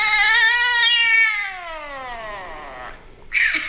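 A chihuahua lets out a long, loud, cat-like caterwaul, a wavering wail that slides downward and fades before a short yelp at the end, with no talk.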